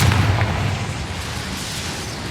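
Confringo fire spell bursting in Hogwarts Legacy, a single loud boom that opens sharply and then trails off into a rumbling decay, close and alone.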